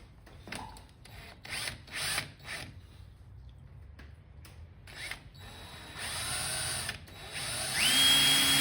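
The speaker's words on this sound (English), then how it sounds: "it's as simple as drilling my pilot hole" A series of short buzzing drill bursts starts and stops, then a longer whining run of an electric drill building up at close range as it drills a pilot hole in aluminum.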